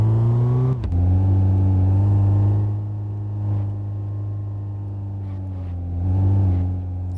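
A car engine idling in a garage, a steady low hum that drops briefly near the start. The revs swell up twice, gently, then settle back to idle.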